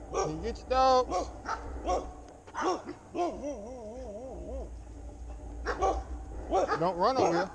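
Dogs bark and yip at a cyclist on a long bike tour, several sharp barks and a whimpering whine close by, with someone shouting over them.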